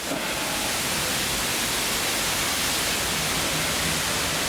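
A broad, steady rushing hiss of a river's tidal flow, wide and unbroken, with no voices over it.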